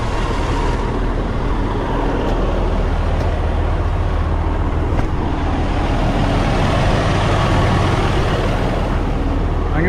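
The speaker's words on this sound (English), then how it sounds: "I want you to hear the engine running." 2017 Freightliner Cascadia 125 Evolution semi truck idling with the idle turned up slightly, a steady, loud, low diesel rumble that holds constant throughout.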